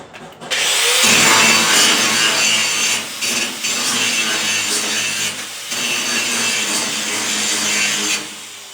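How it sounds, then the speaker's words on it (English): A grinder scours mill scale off steel stock in a loud, close, continuous abrasive rasp that starts abruptly, dips briefly a few times, then trails off near the end. "We want to grind all this mill scale off, and it's gonna make it a lot easier when we start building."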